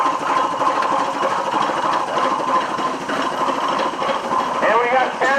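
A 1901 Buffalo Pitts double-cylinder high-pressure steam traction engine runs in a construction expo daily parade, a steady mechanical chugging throughout with a rising whine near the end, heard under a continuous busy crowd and announcer backdrop.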